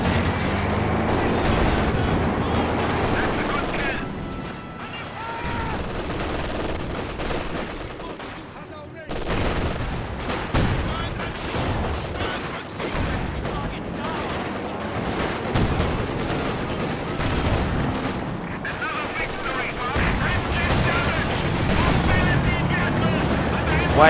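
A strategy video game battle roars with dense, continuous gunfire, sniper shots and explosions, loud and layered throughout, with voices faintly mixed into the din.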